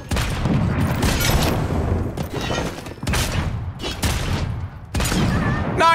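Loud, close bursts of gunfire from a video game come in several rapid volleys separated by short gaps, with booming hits between them.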